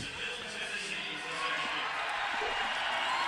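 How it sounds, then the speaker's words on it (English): A crowd at a women's college basketball game, Lady Raiders against FIU, applauds with a steady wash of clapping and murmur that swells slightly toward the end, while a commentator talks over it. "the crowd showing its appreciation"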